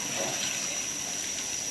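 Pieces of wax gourd boiling in sugar syrup in a cooking pot give a steady, even bubbling and hissing that stays constant throughout, close by and moderately loud, with no talking.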